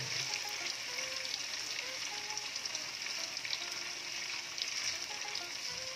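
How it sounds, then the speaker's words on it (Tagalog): An ingredient for sweet and spicy pancit canton fries in hot oil until lightly browned, a continuous close sizzle with crackling pops throughout. "Prituhin lang po natin siya ng medyo mag-brown lang."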